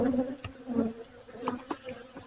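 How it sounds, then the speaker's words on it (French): Honey bees buzz around an open hive during an inspection, a close, steady hum with individual bees zipping past. "Il y a de l'abeille ici."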